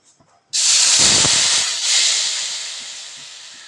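A sudden loud sizzle erupts as a wet coconut paste hits a hot pan over very low heat, a bright hiss that slowly fades over a few seconds.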